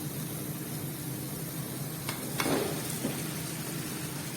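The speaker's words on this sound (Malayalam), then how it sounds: "ഇനി നമുക്കിതിലേക്ക് നമ്മൾ അരിഞ്ഞ് വെച്ചിരിക്കുന്ന ബ്രസൽ ഇട്ട് കൊടുക്കാം കേട്ടോ" Chopped Brussels sprouts drop into masala frying in a pan, giving a steady low sizzle with a couple of short sharper crackles and a brief swell of hissing as they land.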